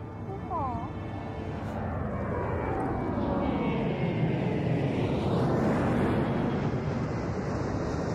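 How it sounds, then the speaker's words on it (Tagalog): An airplane passes overhead in a scene from a Tagalog comedy film, a broad roaring rumble that swells and sweeps past over several seconds, mixed with wind-like noise and a brief high call at the start. "Ang aeroplano ko! Eroplano mo? Sure ka, eroplano mo."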